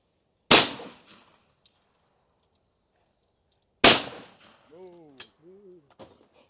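Shotgun fired at clay targets during a shooting lesson: two sharp, loud blasts a few seconds apart ring out across open ground, followed by brief talk and faint echoing tails.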